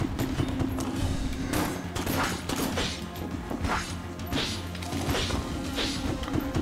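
Rapid video-game gunfire and impact bursts from Enter the Gungeon, a dense run of crashing shots and thuds under a busy, loud mix with no clear gaps.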